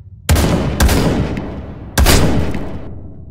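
Chicken cannon firing in People Playground with a Calamity mod, three loud, sharp booming shots, each followed by a lingering decaying tail, with no talk over them.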